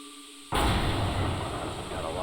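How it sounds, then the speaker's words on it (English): In Resident Evil HD Remaster, power is restored to the main elevator: quiet low hum, then a sudden loud heavy surge of rumbling machinery that holds steady and dense to the end. "The main elevator is getting plenty of power."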